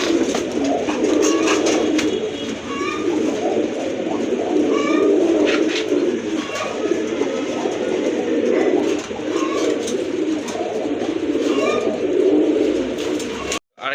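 Lahori pigeons coo continuously at close range in a pigeon market, producing a soft, low, rolling murmur that keeps going with no pauses.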